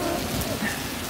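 Steady rain falls in a film scene from Max Payne, a dense, even hiss of drops on surfaces with no voices, brief and fairly loud throughout.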